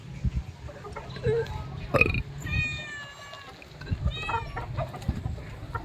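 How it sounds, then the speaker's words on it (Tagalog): Pet chickens clucking and squawking close by in a yard, a rooster-like drawn-out call rising twice among scattered short clucks and bumps, with brief faint voices in the background. "Ito yung mga alaga nating manok ngayon dito."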